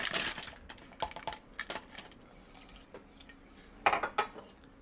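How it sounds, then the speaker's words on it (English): Fresh ice cubes dropped into a bubble tea cup, clattering and clinking in a few bright bursts, a cluster at the start and another near the end, close and fairly loud. "And we're going to add some fresh ice."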